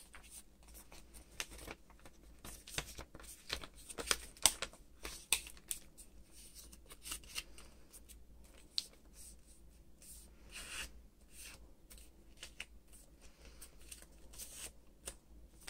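Paper being folded and creased into an origami penguin: soft, close rustling, rubbing and crinkling with scattered small taps, faint and continuous with no talking.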